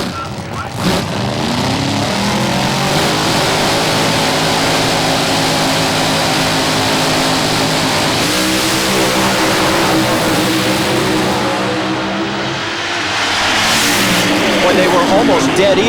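Drag racing cars launching off the line and roaring down the strip at a Lucas Oil series event in Indianapolis, a loud sustained engine howl with a commentator talking over it throughout.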